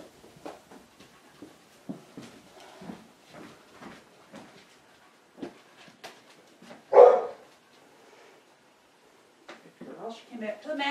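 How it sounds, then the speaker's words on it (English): A dog barks once, sharply and fairly loud, partway through, while a person speaks in short commands and phrases throughout during an indoor dog training session. "Very distracting having Tucker barking"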